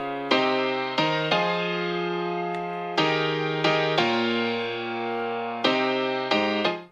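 Happy hardcore chord progression in its drop version on a bright synth, a string of sustained chords with sharp attacks changing at a quick, uneven pace, loud and alone with no voices.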